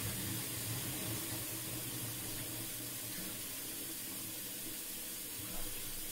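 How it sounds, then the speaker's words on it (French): Steady water pours into ingredients in a Thermomix bowl while msemen dough is prepared, a soft continuous splashing hiss that stays even throughout, with no talk. "maintenant je vais rajouter de l'eau"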